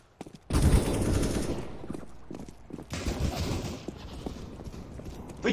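Pistol gunfire in the video game CS:GO: two loud, close bursts of rapid shots, the second running longer and fading into a lingering clatter.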